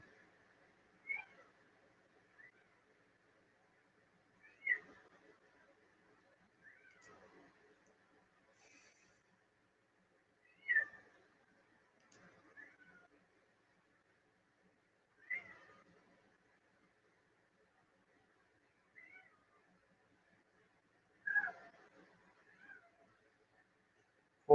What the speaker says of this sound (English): Cat wants in.